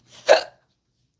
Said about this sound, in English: I don't need a hiccup.